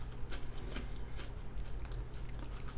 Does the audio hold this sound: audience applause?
no